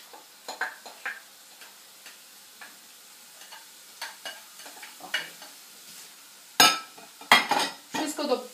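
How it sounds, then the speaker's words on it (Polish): Rice and vegetables stirred in a frying pan for a Chinese dish, with a utensil scraping and clinking at irregular intervals over a faint sizzle, growing louder toward the end. "Wszystko dokładnie mieszamy."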